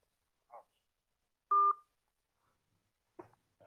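Telephone keypad tones beeping as a number is dialed, a few short separate presses with one longer steady tone in the middle, clear and close in an otherwise quiet room.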